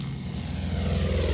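A propeller airplane drones overhead in the video game Far Cry 5, a steady, moderately loud engine hum swelling slightly, heard alone.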